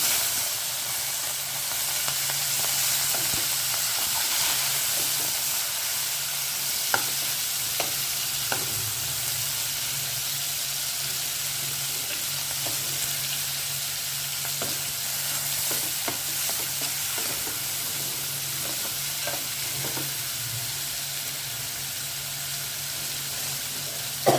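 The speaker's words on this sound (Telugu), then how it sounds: "పచ్చిరొయ్యలు కూడా ఒకసారి వేయించుకున్నాను" Raw prawns fry in a pan with a continuous dense sizzle and hiss, broken by occasional stirring clinks and pops, steady and close throughout.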